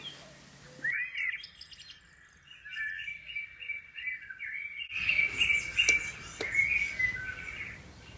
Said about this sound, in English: And there's a cuckoo hidden in there somewhere too.